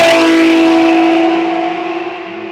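Ferrari Formula 1 client cars run at the Imola circuit, engines giving a loud sustained howl with strong steady tones that slowly fade as a car pulls away into the distance.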